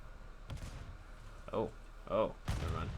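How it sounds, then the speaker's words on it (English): Gunfire in the Call of Duty video game: a few sharp shots land amid the match, with louder bursts near the end, and a person talks over the action. "Inferno scared me there with those straight gunshots"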